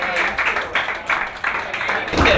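A comedy club audience applauds the host as he comes on, clapping dense and steady at close range, swelling in bursts over a couple of seconds.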